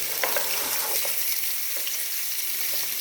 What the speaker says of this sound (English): now I've got my onions going in here